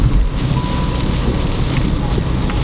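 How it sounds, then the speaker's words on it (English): Heavy rain pounds steadily on a car while driving in Hilo, Hawaii, a loud dense hiss of drops close on the roof and windshield throughout. "Driving in the rain in Hawaii."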